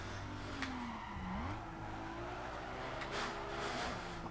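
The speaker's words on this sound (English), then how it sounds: "Look at that drift." A car drifts in the street racing video game Need for Speed Underground 2, its engine whining and sliding in pitch while the tires skid and squeal through a sustained slide.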